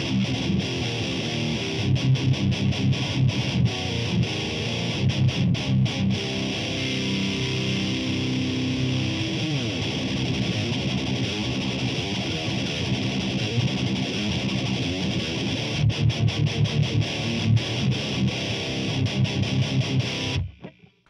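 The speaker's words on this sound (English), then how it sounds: "So let's kick on the Fortin modified OD-9." A distorted electric guitar through a Fortin-modded Maxon OD-9 overdrive into a Marshall amp plays heavy palm-muted chugs and choppy rhythmic stabs, loud and close, then cuts off abruptly at the end.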